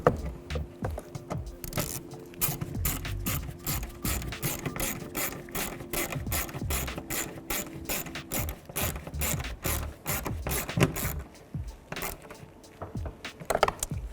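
A bolt snugged down with a wrench, heard as a close, steady ratcheting of rapid metallic clicks in repeated bursts over several seconds, with no talking.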